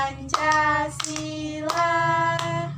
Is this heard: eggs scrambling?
no